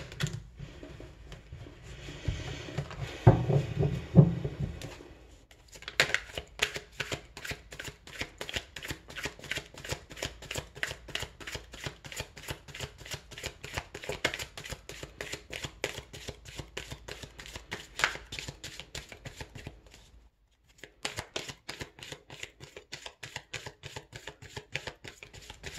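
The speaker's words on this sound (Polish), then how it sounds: "tylko muszę w skupieniu przetasować karty" A deck of tarot cards is shuffled close up in long runs of quick, crisp riffling clicks, broken by a brief handling pause near the start and another short gap later, with no talking.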